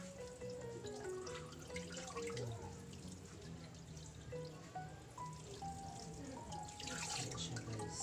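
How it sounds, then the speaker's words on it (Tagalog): Tap water runs steadily into a sink while bitter melon is rinsed, a continuous splashing trickle with small drips, fairly close and alone. "Sugwak-sugwakon sa tubig."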